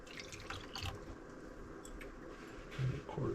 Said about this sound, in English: 3/4 cup cranberry juice, a half cup there, and then we'll just pour to the 1/4 cup line.